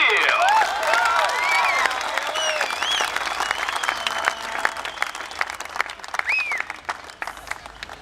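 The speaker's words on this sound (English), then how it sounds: "It's going to have a round of applause" Audience applause for a race driver at a 2014 trophy presentation, with steady sustained clapping from a crowd that gradually thins, plus a few faint voices and whistles in the mix.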